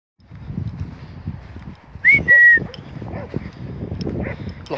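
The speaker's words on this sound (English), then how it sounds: "The dogs are playing lovely." Dogs playing on an open muddy field with football posts give off a high whining yelp in the middle, over a steady bed of scuffling, panting and outdoor rustle at moderate distance.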